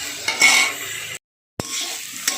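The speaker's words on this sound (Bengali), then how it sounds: "মেথি শাকটাই দিয়ে দিলাম দিয়ে একটু ভালো করে তেলের উপরে নাড়াচাড়া করে ভাজা ভাজা করে নিচ্ছি" Fenugreek leaves are stirred and fried in oil in a pan, giving a steady close sizzle with scraping spoon strokes, broken by a short dead-silent gap before the frying resumes.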